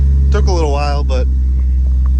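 A high-mileage Jeep Cherokee XJ runs at a cold-start high idle, with a loud, steady low engine rumble throughout and someone talking briefly over it.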